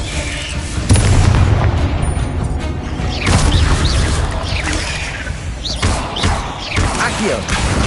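Spell blasts from the Hogwarts Legacy video game, including the Confringo explosion, land in a rapid run of booming thumps and crackling bursts over busy game noise, with a voice calling out spell names among them.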